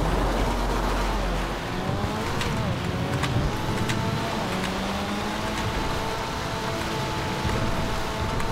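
In a racing video game, an Annis 300R car engine roars steadily at close range, its pitch climbing and falling through gear changes, with faint ticks and no clear talk.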